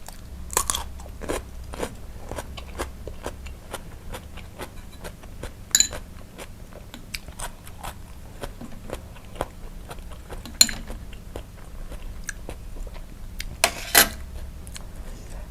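Large prawns marinated in fish sauce are bitten and chewed close to the mic, giving a steady run of sharp, wet crunches and clicks over about fifteen seconds, with a few louder bites standing out.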